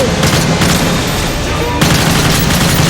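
Gunfire from the video game Call of Duty Modern Warfare 3, a loud, dense stream of rapid shots and booms continuing throughout, with a brief dip before the firing resumes, with a faint voice mixed in.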